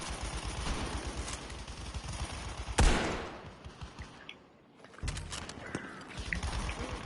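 A bolt-action rifle in a video game cracks once, a single sharp shot with a quick decay against steady background noise and scattered game sounds.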